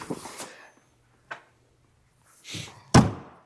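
A door on a Jeep JK is swung shut, ending in a solid thunk near the end. Before it come softer handling noises and a brief tap, all close by with no talking.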